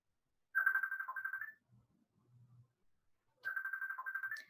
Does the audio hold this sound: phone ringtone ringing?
yes